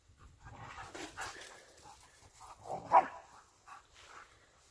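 Dogs pant and whimper softly nearby in a garage during a compound turbo install and manifold flip on a truck, with breathy rhythmic huffs, faint whines and one slightly louder yelp.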